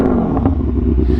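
An Aprilia Tuono V4 1100 fitted with an SC Project exhaust gives a short, close, loud burst of rumbling engine and exhaust noise with no talking.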